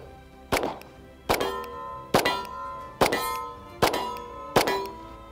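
Six evenly spaced Glock 47 pistol shots ring out at a shooting range, each a sharp loud crack with a ringing metallic clang of a steel target at 20 to 25 yards.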